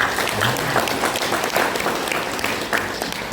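A crowd applauding at a firefighter training graduation ceremony for provincial civil servants, steady clapping that fills the room throughout at moderate, even loudness.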